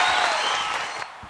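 Audience applause for singers on a Nepali television talent competition, a dense burst of clapping that fades over about a second, with no voices over it.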